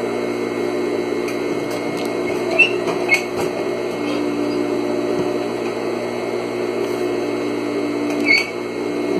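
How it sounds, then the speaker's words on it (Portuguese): Sewing machine running steadily as it stitches a seam along the edge of a fabric table runner, a continuous mechanical whir with a few brief louder clicks, close and alone. "Vocês vão passar uma costura agora aqui, ó, aqui na beiradinha, onde tá as duas metades"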